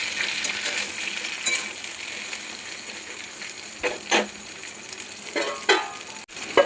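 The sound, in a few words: pointed gourd (potol) frying in oil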